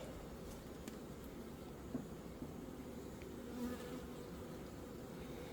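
Honeybees buzzing at an open hive, a steady, dense hum from many bees close by, with no voices over it.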